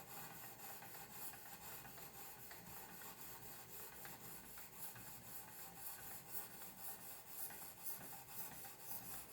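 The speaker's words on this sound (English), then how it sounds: "Now we're going to come over here and we're going to scrub on this side." Zwilling prep knife scrubbed on a Wicked Edge 800 grit stone, a steady, continuous gritty rasping with fine rhythmic strokes, close and fairly quiet, with no voice over it.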